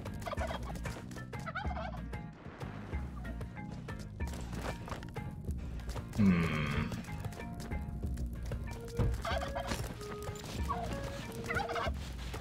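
Turkeys gobble repeatedly in the Spelunky 2 video game, close and clear amid game music and effects, with several gobbling bursts spread across the span.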